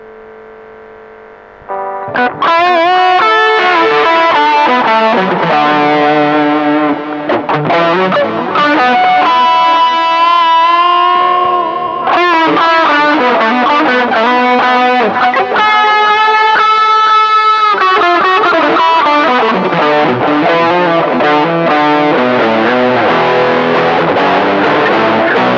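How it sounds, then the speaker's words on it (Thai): Heavily distorted electric guitar playing chords and riffs through an 8Note Chrono Tap delay pedal, echoes trailing each phrase, loud and continuous after a brief quieter start. "ใช้กับเสียงแตกดูนะครับผม"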